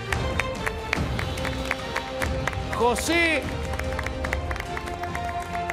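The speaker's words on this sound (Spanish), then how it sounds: "¡Aplaude!" A game-show studio audience applauds with dense, continuous clapping under a host's loud voice and background music.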